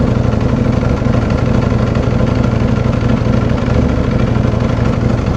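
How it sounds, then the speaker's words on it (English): A Ducati V4R motorcycle engine idles steadily and close, a dense unbroken rumble with a fine pulsing texture, no talk over it. "Let's give it a sec, see how it's gonna idle right now."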